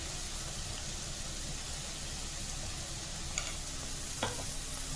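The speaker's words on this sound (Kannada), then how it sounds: "ಹಾಕ್ಬಿಟ್ಟು ಚೆನ್ನಾಗಿ ಇದನ್ನು ನಾವು ಫ್ರೈ ಮಾಡ್ಕೊಳ್ಳೋಣ." Vegetables with gram flour fry in a pan, giving a steady, quiet sizzling hiss throughout, broken by a couple of faint clicks from stirring.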